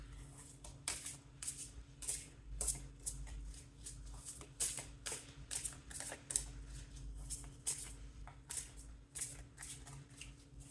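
Tarot cards are shuffled and slapped down onto a table in a steady run of crisp, close riffles and soft taps, with a low steady hum underneath and no talking.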